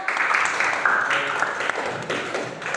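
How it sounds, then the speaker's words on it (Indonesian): Classroom of students applauding together during a lesson, a steady dense patter of many small hands clapping that fills the whole moment at close range. "Tepuk tangan untuk Tori."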